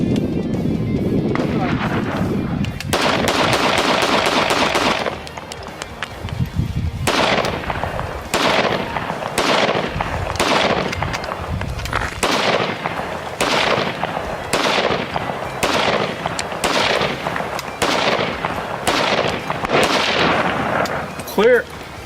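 An FN 5.7 pistol fired outdoors in the desert: about a dozen loud, sharp reports follow one another at a steady pace, each with a ringing tail over wind noise.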